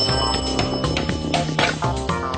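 A telephone rings in a Malayalam cartoon series, its bright ringing tone repeating steadily and loudly over busy background music for the whole stretch.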